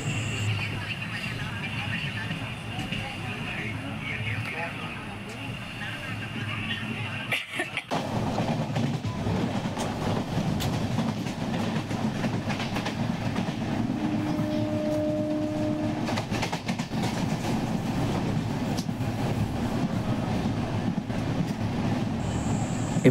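An express train runs through a station without stopping, with steady rumbling, rattling carriages heard from inside the train. A faint tonal squeal rises briefly partway through and a muffled voice is heard now and then.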